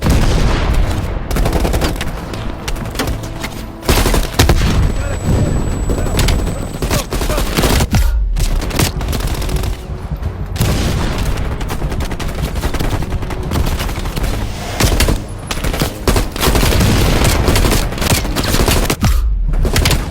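Anti-aircraft guns and heavy gunfire in the Call of Duty Black Ops Cold War video game: loud, dense bursts of automatic fire and booming shots with brief pauses, continuous and close throughout, with occasional shouted voices mixed in.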